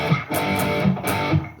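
Distorted electric guitar playing a riff, a few punchy chord hits in a choppy rhythm, loud and alone.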